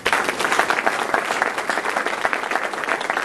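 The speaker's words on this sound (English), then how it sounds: "you all deserve a round of applause for that" A large audience applauding at a 2009 UHV university convocation, dense sustained clapping filling the hall at steady loudness from start to finish.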